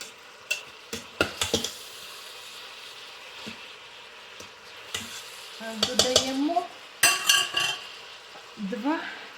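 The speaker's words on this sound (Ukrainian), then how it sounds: "Теж перемішуємо, перемішуємо цибулька з морковкою." Utensil stirring onion and carrot in a multicooker pot: irregular scraping and clinking strokes in bursts against a faint sizzle, close up, with some short vocal sounds between strokes.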